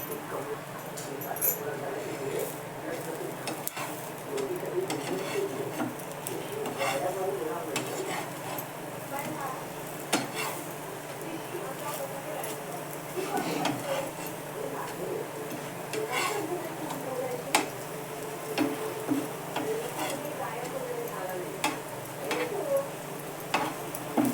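Eggplant slices shallow-frying in a pan, a soft, continuous sizzle with scattered clicks and scrapes from turning them, heard faintly beneath a person talking.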